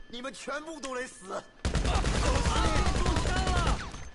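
Rapid automatic assault SMG fire inside a video game nightclub, a dense, loud continuous burst of shots lasting about two seconds, following a short stretch of someone talking.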